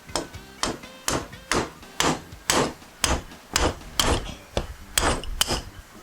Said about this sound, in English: tap on the bolt while you're holding the rod